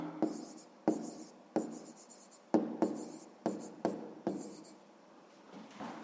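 A pen scratches across paper while a sixth-grade maths exercise is written out by hand: short, rhythmic strokes with brief pauses between them, close up in a quiet room.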